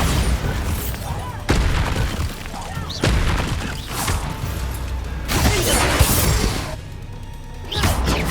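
Bombarda and other blasting spells explode in the Hogwarts Legacy video game, producing a series of loud booms and crashes roughly every second or two, with voices calling out amid the blasts.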